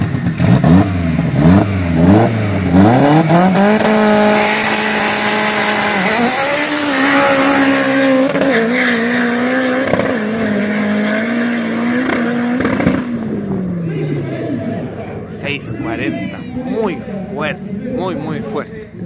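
Drag racing car making a cold-weather test pass at the Quilpué racetrack in Chile, its engine revving hard and rising in pitch across repeated bursts, loud and close, with crowd or announcer voices in the background.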